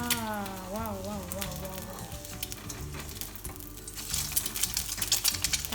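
An egg frying in oil in an ordinary wok being made non-stick, with crackling sizzle and scraping and clinking of a utensil against the metal pan while it is turned, under a faint voice.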